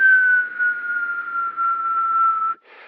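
A voice imitates a steady whistling tone, a single sustained slightly falling pitch held for about two and a half seconds, close and clear, then a brief breathy burst.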